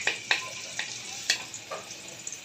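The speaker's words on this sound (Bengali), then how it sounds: "পেঁয়াজটাকে তেলে একটু হালকা ভেজে দেব" Chopped onion sizzles in hot oil in a kadai, a steady soft hiss broken by four or five sharp clicks and scrapes of stirring, fairly quiet and close, with no voices.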